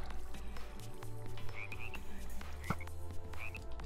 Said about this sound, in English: I do like the sounds of the frogs.